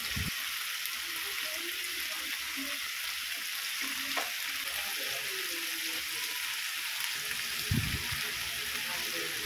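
Lettuce and vegetables sauté in a pan, a soft steady sizzle and hiss with occasional stirring clinks and scrapes, fairly quiet throughout.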